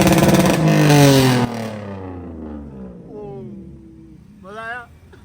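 A motorcycle fitted with a full straight-pipe exhaust revs hard beneath a flyover, a loud raspy roar that drops away into a falling engine note, followed by a short shout from a voice.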